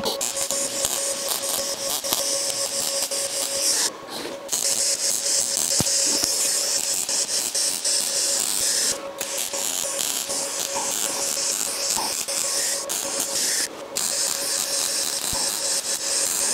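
Stitch welding on a David Brown 990 tractor gives a continuous close crackling buzz with a steady whine, broken by three brief pauses between short weld pulses.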